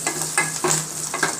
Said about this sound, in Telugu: తాలింపు వేసేస్తున్నామండి.